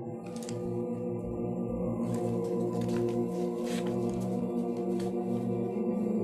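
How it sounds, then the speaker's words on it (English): Choir singing slowed down so drastically that it becomes a continuous, droning wash of sustained tones with slowly shifting harmonics, steady and loud throughout with no distinct words or breaths. "This is the choir singing that slowed down"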